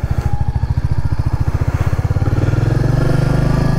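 Royal Enfield Meteor 350 motorcycle pulling away and shifting up through the gears, its single-cylinder engine thumping in a steady, quickening rhythm, close and loud with no talk.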